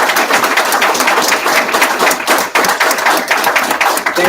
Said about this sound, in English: Can we clap it up for Miss Courtney Montessori?